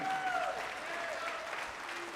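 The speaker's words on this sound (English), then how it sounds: "Yes, round of applause." An audience at the ACL cornhole World Championships applauds, a soft, distant patter of many hands under a speaker's voice in a large hall.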